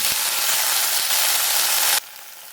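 Flat green beans fry in a pan of hot oil with a loud, dense, even sizzle close to the mic that drops away sharply near the end.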